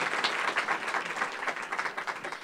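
Audience at a groundwater sustainability forum applauding its panelists, a brief, fairly soft round of even clapping from a seated crowd.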